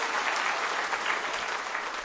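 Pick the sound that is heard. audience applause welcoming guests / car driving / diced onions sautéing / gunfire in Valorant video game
audience applause welcoming guests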